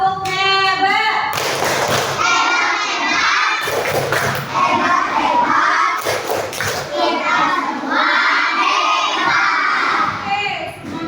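Classroom of children clapping a rhythmic cheer together and shouting, with loud bursts of synchronized claps and excited young voices filling the room, a teacher's speech mixed in.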